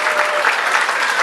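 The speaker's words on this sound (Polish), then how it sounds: "Wielkie brawa, szanowni państwo" Dense, loud crowd applause follows a joint performance by brass orchestras at an outdoor march music event, a brief steady burst of clapping.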